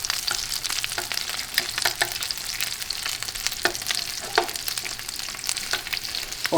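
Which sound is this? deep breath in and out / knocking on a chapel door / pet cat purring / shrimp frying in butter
shrimp frying in butter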